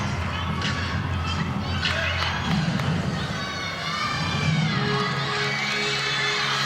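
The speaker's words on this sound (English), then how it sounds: "Teammates and coaches cheering from the sidelines, giving her some encouragement." Teammates and coaches cheer and shout from the sidelines at a college women's gymnastics meet, Missouri versus Kentucky, a continuous crowd of raised voices with whoops and calls under the arena's ambient noise.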